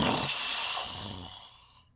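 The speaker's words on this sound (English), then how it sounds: "there's a very insane snore" A man's loud, breathy snore performed by a voice in a staged comic play, one long rasping intake of about a second and a half that fades out at the end.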